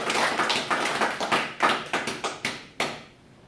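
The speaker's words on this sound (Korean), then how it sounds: "뜨겁게 우리 하나님께 감사의 박수를 치시기 바랍니다." A church congregation claps together, starting as a dense mass of applause and thinning into a handful of distinct sharp claps that trail off toward silence.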